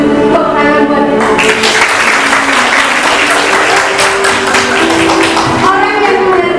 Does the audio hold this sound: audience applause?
yes